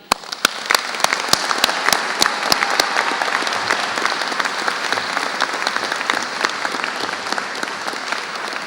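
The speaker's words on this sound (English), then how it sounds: "many family and friends actually applauding themselves" A large crowd at a graduation ceremony applauds in a long, full wave, a few sharp close claps standing out at the start before the clapping settles into a steady roar.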